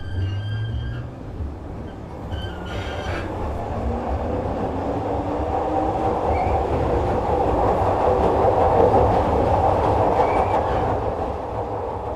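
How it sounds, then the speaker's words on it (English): Glasgow subway train running underground, a loud steady rumble with rattling and clatter inside the carriage, a brief squeal early on, and the roar swelling slightly as it speeds up. "It's the sound of the city's underground."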